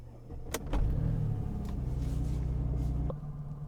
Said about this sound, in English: So I'm going to start this car up and we'll continue the diagnostic.